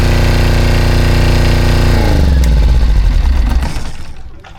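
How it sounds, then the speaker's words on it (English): A newly installed Fischer Panda 8 Mini marine generator runs with a loud, steady mechanical hum and rattle, then winds down as it shuts off, the drone dropping in pitch and fading to near silence over a couple of seconds. "get this generator shut down"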